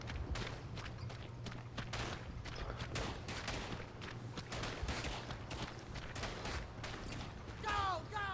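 Scattered gunfire from the World War I shooter Verdun, sporadic rifle and machine-gun shots of varying distance over dense ambient battlefield noise, with a low steady hum throughout.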